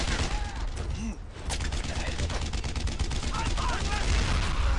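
Dense gunfire rattles on and on in Brothers In Arms: Earned In Blood, a World War II shooter, with rapid overlapping bursts and a brief lull early on, while a player's voice shouts over the shooting.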